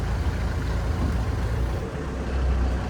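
An idling engine with the clutch being let out in a tight showroom area, a low steady rumble that stays close and fairly quiet for the whole stretch.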